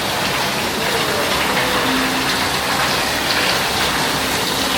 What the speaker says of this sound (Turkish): Buradan bayağı bir su akıyor.